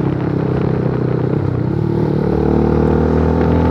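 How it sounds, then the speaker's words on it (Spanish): An IGM KPR 250 motorcycle accelerating on a road from 0 to 100 km/h, its engine a close, steady drone whose pitch climbs toward the end. "la moto desarrolla bastante bien, va subiendo y aumenta la velocidad"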